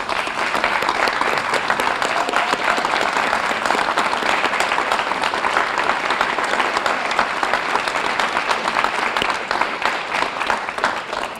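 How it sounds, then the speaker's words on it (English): A seated audience at a scholarship awards ceremony gives past Jacobs Scholars a long, loud round of applause, dense and steady throughout with no talk standing out. "let's give them a round of applause"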